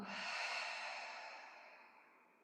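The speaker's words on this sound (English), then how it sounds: "take a big breath through your nose. And then open mouth, exhale, let it go." A single long open-mouth exhale follows a deep breath, close and soft, fading gradually over a couple of seconds.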